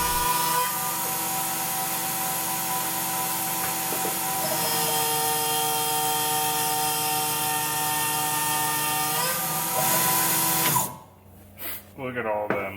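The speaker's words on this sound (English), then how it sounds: "I had to resort to manually controlling the machine and manually milling it" A milling machine cuts metal under manual control, a loud steady whine with sustained tonal harmonics and a low rumble running continuously before abruptly winding down near the end, leaving brief scattered clatter.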